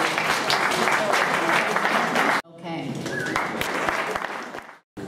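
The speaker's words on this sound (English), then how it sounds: "Can we have a round of applause?" Loud applause at a jazz awards party, dense crowd clapping with voices mixed in, briefly cut off midway before resuming and dropping out near the end.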